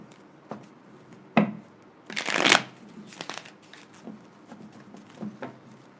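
Tarot cards are shuffled in a few quick riffling bursts, close and fairly quiet, with one louder longer riffle in the middle and soft card taps between.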